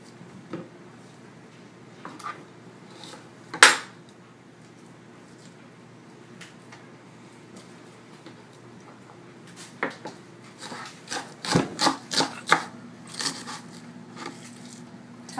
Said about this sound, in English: we're going to slice up our shallot